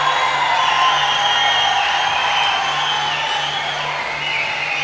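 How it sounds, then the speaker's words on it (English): A packed crowd at a Muay Thai fight in Sydney roars and cheers continuously, a loud, dense wash of voices and whoops with no break. "This crowd is going nuts."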